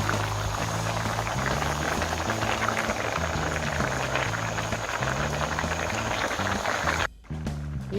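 Isan-style cassia leaf curry made with coconut milk bubbles at a steady, close boil, a continuous wet churning that briefly drops out near the end.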